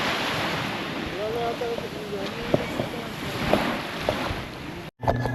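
Sea waves washing on a shore, a constant broad surf roar with wind buffeting the microphone, a few faint knocks and brief tonal calls over it, ending in a sharp cut.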